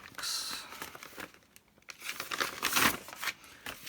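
Sheets of tea-dyed paper being counted out and handled, with soft crinkling and rustling in uneven bursts, close and fairly quiet, no talk.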